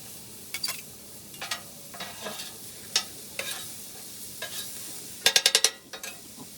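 Fried rice being stirred on a Blackstone griddle, the spatula scraping up stuck-on bits in sharp, irregular scrapes over a steady sizzle, ending in a quick burst of rapid scraping strokes.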